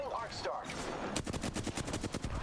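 Rapid gunfire in a video game, starting abruptly after a short stretch of ambient noise and continuing as a fast, evenly spaced burst of loud, close shots to the end.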